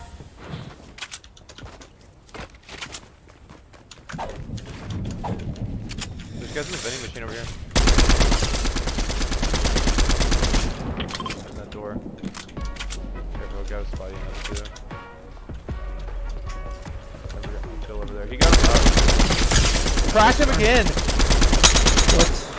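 Gunfire in a video game comes in bursts of rapid automatic shots, loud and close, in several separate volleys across the clip, with a player talking throughout between and over the shooting.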